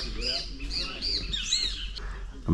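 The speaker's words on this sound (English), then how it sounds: "You can hear the birds chirping" Several birds chirp and trill in quick, overlapping calls in a village on the Corentyne River, Guyana, near Suriname, with a faint voice murmuring underneath and low background rumble.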